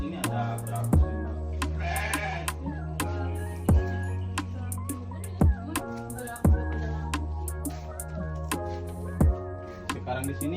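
Goats in a livestock pen bleat in several quavering calls scattered across the stretch, with sharp clicks and knocks between them and people talking nearby.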